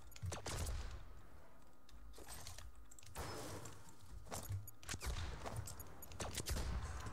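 Rapid bursts of gunfire from the video game Fortnite, repeated volleys of sharp shots in quick succession over a steady background, without talk.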